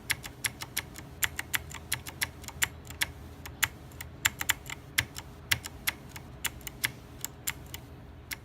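Rapid typing on an AULA F2012 mechanical gaming keyboard: a dense, steady stream of crisp key clicks and thocks, close and clear against a quiet room, with no talking.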